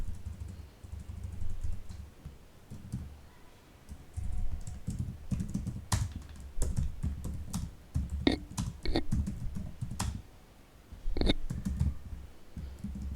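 Soft, close keystrokes tap on a computer keyboard while PHP code is typed, scattered clicks over a low steady background hum, no speech.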